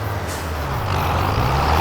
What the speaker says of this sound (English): Alright, we'll just use this tractor now.